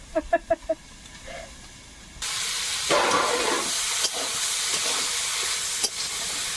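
Potato and eggplant start frying in hot oil with a sudden loud hiss that cuts in after a few short tonal sounds, then holds as a steady close sizzle to the end.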